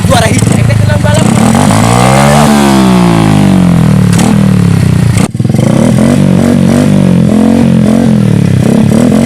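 A loud motorcycle engine revs up and down repeatedly, close by, with rising and falling pitch sweeps and some clattering.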